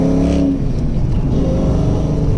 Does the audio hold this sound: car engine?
yes